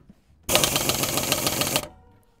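A Parkside PDSS 310 B5 pneumatic impact wrench runs in one loud, continuous burst of rapid hammering rattle lasting just over a second, starting abruptly and stopping sharply.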